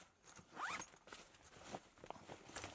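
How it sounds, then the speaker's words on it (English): A zipper on an Eagle Creek Tour Travel 40L backpack is drawn open in a quick close rasp, followed by quieter fabric handling and a few shorter zip strokes. "you can access the top portion of the bag through this zipper, so you can unzip the floor right out of that bag"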